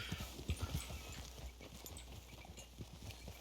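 Horse hooves clip-clop in a steady rhythm in Red Dead Redemption 2, loudest at the start and then continuing more faintly beneath game ambience.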